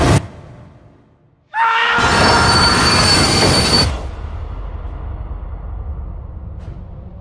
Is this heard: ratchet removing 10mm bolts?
no